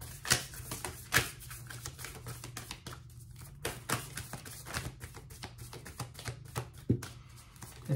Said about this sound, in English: Let's pull some Moonology cards for you